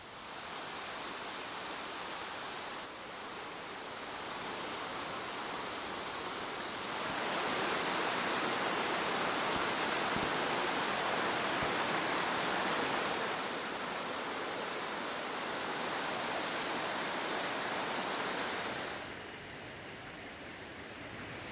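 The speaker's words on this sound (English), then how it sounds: "there were some waterfalls here, and just a little walk from where we parked, and here they are" A waterfall at a roadside pull-off in New River Gorge, a steady broadband rush of falling water that swells louder through the middle and eases toward the end, with no voices.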